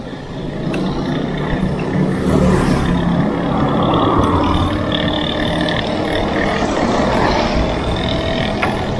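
Busy city road in Tarlac City, Philippines, with steady traffic noise from many passing cars and trucks, a continuous close rumble with occasional louder vehicles going by.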